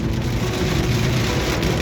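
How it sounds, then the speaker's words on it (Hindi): Steady rain falling on a road around a roundabout, a dense continuous hiss of drops with low rumbling traffic beneath, loud and close throughout the short stretch. "बारिश आ गई है"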